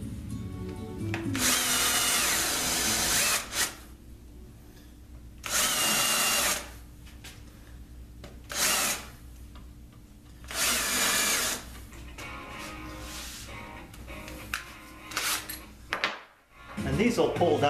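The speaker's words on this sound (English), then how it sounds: "I'm going to flip that over and drill that pilot hole through." Power drill boring pilot holes through a shuffleboard floor panel, several loud bursts of whirring drilling a second or two each, separated by quieter pauses with handling noise, close up.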